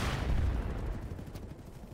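Gunfire in Battlefield 3 fills a short stretch, a dense rumble of shots with low booms strongest at the start and thinning out toward the end, with no voices.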